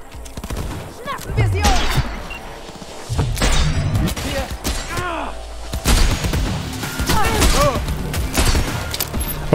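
Pistol fire in Cyberpunk 2077 during a firefight, sharp repeated shots in irregular bursts mixed with booms, game music and voices talking.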